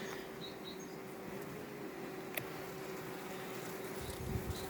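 Honeybees at an open hive in a Polish apiary in spring, with a thin continuous buzz of many insects held at low, even level, plus a faint sharp tick midway and some low rumbling toward the end.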